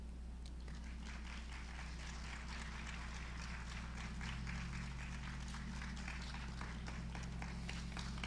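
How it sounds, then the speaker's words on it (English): Standing audience applauding at a convocation ceremony, a faint, steady patter of many hands clapping under a constant low hum, continuing throughout without talk. "our audience was standing and applauding"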